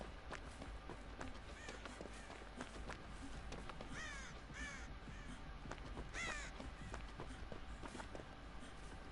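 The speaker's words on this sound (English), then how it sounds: "I like the crows." Crows caw several times in the Dead by Daylight video game, harsh calls standing out around the middle and later part over a low ambient game backdrop with faint footstep-like sounds.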